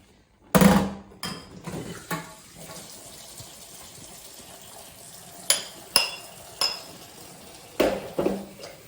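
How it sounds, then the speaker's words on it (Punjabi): Dishes and utensils being washed, with scattered clanks and clinks of pots and cutlery arriving in irregular bursts over a faint background of running water. "ਹੁਣ ਆਪਾਂ ਕਰਦੇ ਹਾਂ ਭਾਂਡੇ ਸਾਫ਼"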